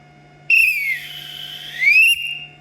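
An umpire's whistle signals the end of a hockey game with two long, loud, shrill blasts. The first falls in pitch and the second rises, with a quiet, steady hum between them.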